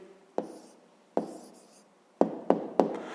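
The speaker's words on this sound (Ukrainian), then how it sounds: "Записуємо відповідь." Pen strokes of someone writing down a math answer by hand, five short taps and scratches at uneven intervals, close and fairly quiet.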